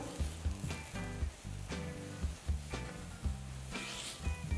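Shiitake mushrooms frying in a pan give a steady, quiet sizzle with a repeating thumping rhythm of stirring or tossing, close by and with no voices.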